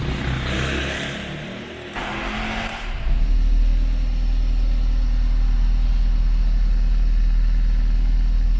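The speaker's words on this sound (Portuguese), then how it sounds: "Vou ligar o veículo." Car engine with a faulty electric radiator fan cranks briefly, then catches and settles into a steady, loud idle that holds for several seconds with no talk.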